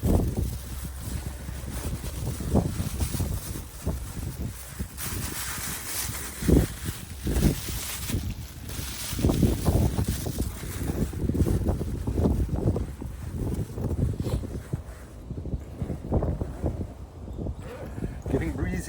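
Wind gusting steadily over the microphone on a hike near Tenjin Mountain Park in Sasebo, Nagasaki, a continuous low rumble and rustle with some nearby handling noise, no clear talk.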